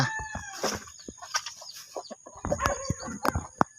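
Chickens, including laying hens, cluck and squawk nearby in a busy coop, with a rooster crowing amid a steady jumble of short calls.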